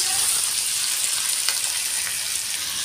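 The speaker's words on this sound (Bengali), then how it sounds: "আলুটা ভেজে নেব" Potatoes fry in hot oil in a pan with onion, green chilli and five-spice, a steady bright sizzle throughout, close and unbroken.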